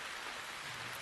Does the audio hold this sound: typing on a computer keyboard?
no